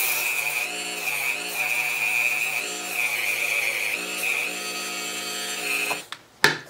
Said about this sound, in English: I'm going to Dremel out the inside of this bottle cap